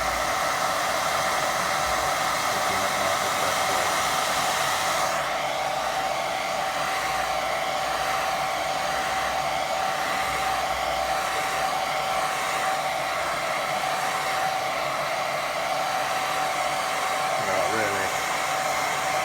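A hair dryer on a low setting blows gently over a watercolour painting of sheep, a continuous loud whooshing hum with a steady tone that holds without a break.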